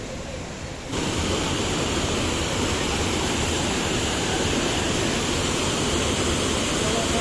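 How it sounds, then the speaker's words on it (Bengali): Bhatta Falls near Dehradun, water cascading down in steps, fills the air with a loud, continuous broadband rush that swells in after a moment and holds steady throughout. "ভাট্টা ফলস, জল এদিকে নেমে গেছে"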